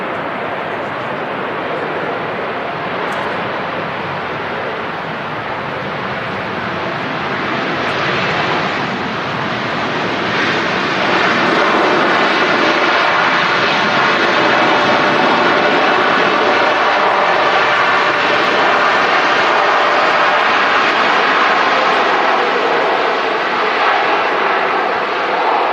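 A Boeing Dreamliner lands at Manchester Airport with a loud, sustained broadband roar of engines and rushing air that swells slightly and stays constant throughout, heard from outside at a distance, with faint voices beneath.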